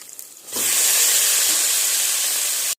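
Chopped banana flower dropped into a pan of frying onions and curry leaves: after a quiet moment, a sudden loud, close sizzle erupts and holds as a steady hissing roar until it cuts off.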